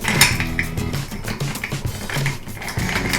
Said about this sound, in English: Fourth step, stir to cool the whiskey.